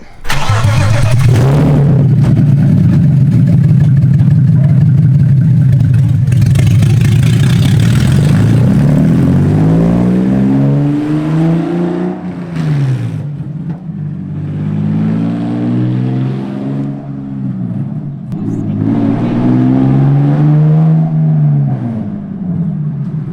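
A BMW E30 with an S52 engine and open headers idles with a loud, deep rumble, then revs up several times in rising and falling sweeps, very close and raw.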